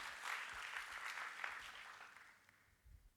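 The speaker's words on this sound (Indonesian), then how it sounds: "Boleh kasih tepuk tangan buat Tuhan Yesus." A youth church congregation applauds during a sermon, the clapping faint and distant, swelling briefly then tapering off as it fades out.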